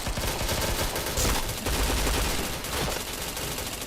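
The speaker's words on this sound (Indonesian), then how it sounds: "Dari mana kau nembakin aku?" Rapid video-game gunfire fills the clip with dense, overlapping bursts of shots that stay loud and nearly continuous for a few seconds, with no speech.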